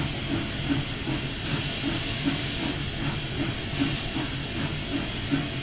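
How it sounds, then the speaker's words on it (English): Steam hisses from the cylinder cocks of the 844 steam locomotive in a steady, loud rush, swelling in two stronger bursts over a pulsing mechanical rhythm. "Oh, cylinder cocks."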